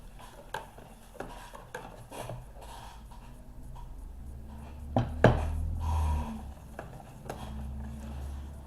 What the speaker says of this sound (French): Il faut encore touiller